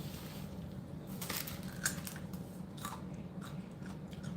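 Someone bites into a crunchy Purple UFO pepper, a habanero-type chili, and chews it: a run of close, crisp crunches and soft mastication sounds over a steady low room hum, with no talk.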